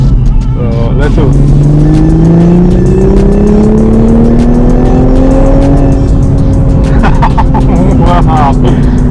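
A loud 2021 Toyota Supra A91 MK5 engine revs and climbs in pitch, holding a rising, sustained drone close by, with brief voices cutting in around it.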